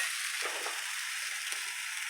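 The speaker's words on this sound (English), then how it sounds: "What I'm gonna do now is stir it around until it's even." Plant-based food is stirred around in a pan on the stove, giving a soft, close scraping and gentle sizzle with a few brief scrapes along the way.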